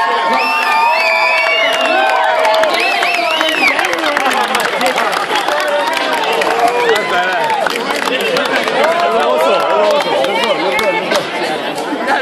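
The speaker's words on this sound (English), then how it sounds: "Let's cheer Tommy Aaron on for the best." Crowd at a fight night event, a dense wall of chatter, shouts and cheering close around, loud and continuous with voices talking throughout.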